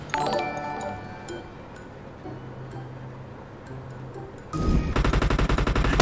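Gunfire in the PUBG Mobile video game: a few faint, distant shots crackle over a quiet stretch, then a loud, rapid automatic burst rattles close by.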